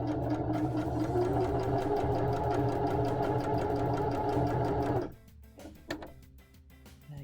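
Sewing machine rapidly back stitching a fabric treasure bag, a fast steady close-up mechanical chatter that stops after about five seconds, then a few handling clicks.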